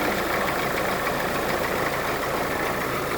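A 1946 Willys CJ2A Jeep engine with a generator and oil bath air cleaner idles after sitting all winter, a loud, close, steady rumble with no talking.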